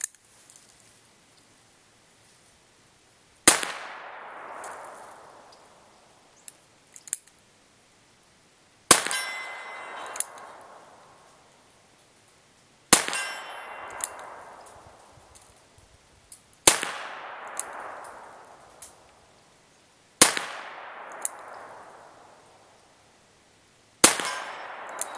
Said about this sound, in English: Once again, I'm firing a single action from about 25 yards.